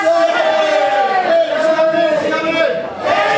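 Wrestling fans in a hot crowd at a Victory Championship Wrestling summer-tour show in Quincy, a steady roar of cheering and shouting that stays loud throughout with a brief dip near the end.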